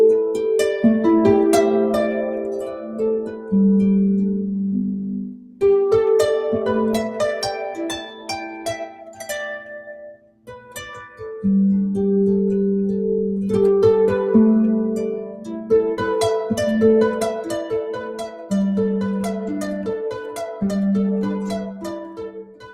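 Plucked harp strings ring out in flowing arpeggios and chords, pausing briefly twice before the rippling resumes, clear and close.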